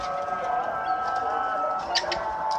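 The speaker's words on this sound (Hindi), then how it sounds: "तो ये कबूतर है" A pigeon, handled after being caught on a rooftop, gives a soft low cooing under a steady background hum, with a few faint chirps near the end.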